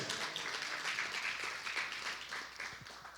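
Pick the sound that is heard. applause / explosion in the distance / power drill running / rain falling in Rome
applause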